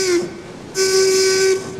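A tugboat's steam whistle sounds in two tonal blasts, a short one and then a longer held note, clear and fairly close.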